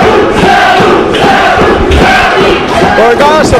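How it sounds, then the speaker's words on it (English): A loud wrestling arena crowd roars and chants for Sabu at a hardcore match, a dense sustained wall of voices with rising cheers and whistles. "the crowd here firmly behind Sabu"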